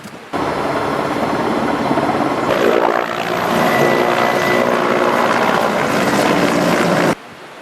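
Firefighting helicopter used against forest fires in Hatay, flying close by with a loud, steady rotor and engine roar that rises slightly midway and then cuts off abruptly near the end, no voices over it.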